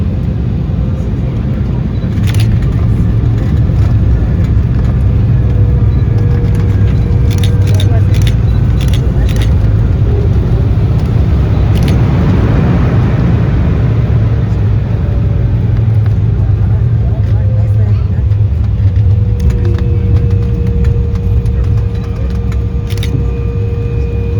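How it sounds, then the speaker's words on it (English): A Delta Connection Embraer 175 jet touches down on runway 25 left at LAX, heard from the economy cabin as a loud, steady engine and airframe roar with rising rumble and a brief swell of noise mid-landing. "let's go ahead and set it down onto LAX's runway 25 left"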